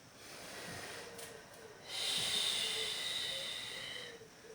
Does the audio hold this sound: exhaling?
yes